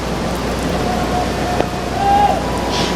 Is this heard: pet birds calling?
no